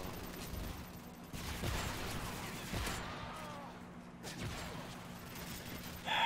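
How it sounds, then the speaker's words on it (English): Sporadic Call of Duty gunfire aimed at a doorway, scattered sharp shots and mechanical clatter over a steady hum, moderately loud with quieter gaps between bursts. "They literally just fucking shoot at this doorway."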